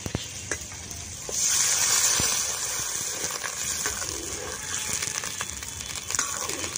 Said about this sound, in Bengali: এইবারে দিয়ে দেব জল।